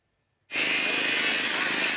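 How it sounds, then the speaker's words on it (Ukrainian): A loud, harsh angle grinder whine starts abruptly after a short silence and grinds on steadily, bright and abrasive, cutting metal while workers dismantle a gas filling station. "Болгаркою та різиком від шостої ранку комунальники демонтують газову заправку"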